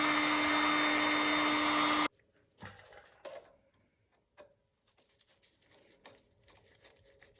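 A heat gun warms an old plastic motorcycle intake boot, blowing a loud steady whoosh for about two seconds before cutting off, followed by faint scattered handling taps and clicks.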